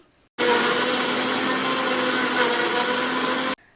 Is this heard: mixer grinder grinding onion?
yes